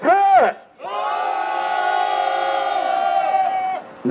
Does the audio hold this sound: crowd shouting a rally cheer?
yes